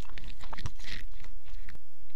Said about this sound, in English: I think a squirrel's chewing on my office.